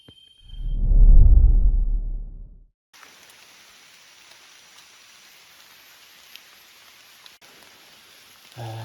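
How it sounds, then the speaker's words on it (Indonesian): Rain falls in the Dulan forest. A loud low rumbling gust comes first, then a faint, steady hiss of falling rain continues with occasional soft drips. "Kalian yang sering ikutin video ini pasti tahu kalau hujan begini, ini saat yang paling saya suka di hutan"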